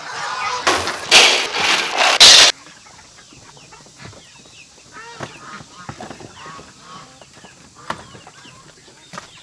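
Laying hens cluck and squawk in a farm coop before feeding, a few loud close calls at first and then steady scattered clucking with honking geese nearby.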